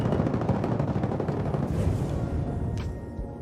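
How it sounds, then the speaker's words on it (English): Enemy turrets fire in the space game Star Citizen, a dense, continuous rattle of loud automatic shots that holds for a few seconds and then thins slightly. "Enemy turrets."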